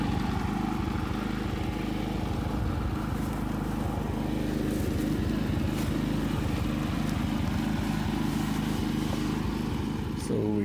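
A Harbor Freight Predator portable generator drones steadily for the whole stretch, a constant, close engine hum with no change in pitch or level.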